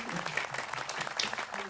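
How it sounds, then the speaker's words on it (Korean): A studio audience at a Korean lawyers' talk show claps in a dense, even patter at moderate distance, with voices faintly mixed in beneath the applause. "박수 치세요"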